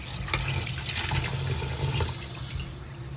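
Water sloshes and swirls continuously in a bowl as dry fish are washed by hand, a dense close rushing wash that holds steady and eases slightly at the end.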